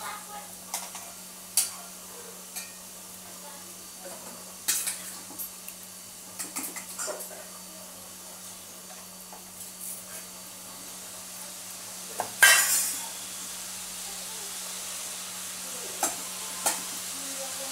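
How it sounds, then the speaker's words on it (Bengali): Chicken pieces frying in a pan at home, a faint, steady sizzle under intermittent sharp clicks and clinks of a utensil against the pan, with a louder scrape near the end. "আর একটা চিকেন ভাজছি।"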